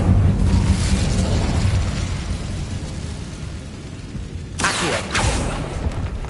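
Incendio fire spell in the Hogwarts Legacy video game, a loud booming blast at the start that fades into a rushing roar, followed by a couple of brief whooshing bursts near the end.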